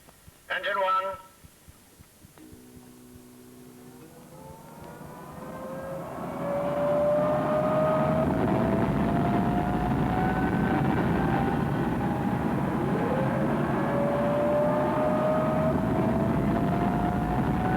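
An aircraft engine starts up, whining and building from a low turn into a loud, steady roar with rising pitch that holds to the end, with brief radio-style voices near the start.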